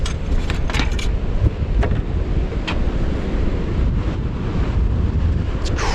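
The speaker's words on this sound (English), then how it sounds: "It's crazy windy out here." Strong, steady wind buffeting a microphone outdoors, a dense continuous low roar with gusty rushes throughout and no voices.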